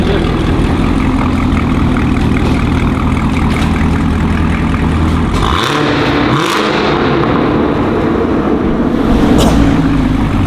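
A car engine started by remote in a home garage runs loudly and steadily throughout, with a deep low rumble and a couple of short swells that suggest light revving.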